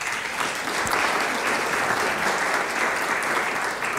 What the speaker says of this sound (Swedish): Applåd.